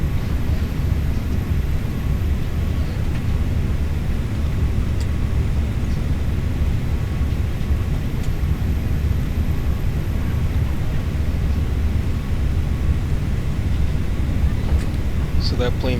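A steady, loud roar of an airplane engine in Microsoft Flight Simulator fills the whole stretch, a dense low rumble with a faint whine above it.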